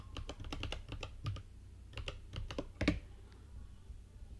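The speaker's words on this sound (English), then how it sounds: "And type password" Quiet, close computer keyboard typing in short clusters of quick key taps with brief pauses between, ending in a slightly firmer keystroke.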